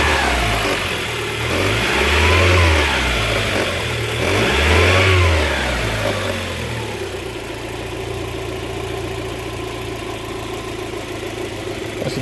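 A car engine idles and revs while warming up during a diagnostic check, with two strong rising-and-falling revs early on, then settling into a steady, rough idle, close and loud.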